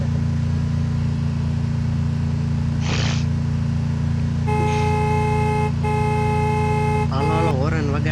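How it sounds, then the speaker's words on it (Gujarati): A car horn in a video game sounds two long, steady blasts, one just after the other, over a constant low engine drone. A voice comes in near the end. "હાલો હોરન વગાડવું હો ભાઈ"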